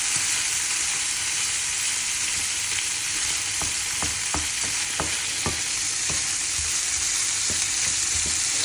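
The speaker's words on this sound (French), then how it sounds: "Je remue un peu les lardons." Lardons sizzle steadily in a hot pan, a constant bright frying hiss running throughout, with a cluster of sharp scraping clicks from stirring around the middle of the clip.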